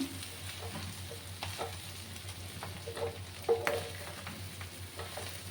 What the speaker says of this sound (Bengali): আবার আমি নাড়াচাড়া করে দিলাম